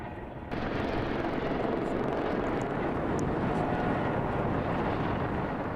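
A loud, steady roar of helicopter engine and rotor noise at the Grand Canyon, starting abruptly and continuing unbroken, close and overpowering.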